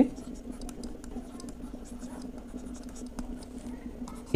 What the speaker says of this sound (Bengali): তাই আমরা লিখব